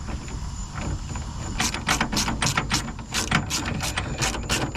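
A hand ratchet tightens the topper mount on a Nissan Frontier truck bed, giving a close, steady run of rapid clicks in repeated bursts against a constant background hum, with no talking.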